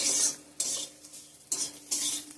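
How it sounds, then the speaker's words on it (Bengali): Neem leaves frying in a pan while being stirred, with short bursts of scraping and sizzling that come and go in an uneven rhythm, close up and with no talking. "তো ভাজা হয়ে গেছে নিম পাতাটা"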